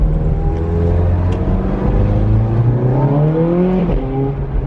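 A Ferrari 430 Scuderia engine pulls hard under acceleration from inside the car on a ride, its loud, steady roar rising smoothly in pitch with no talk over it.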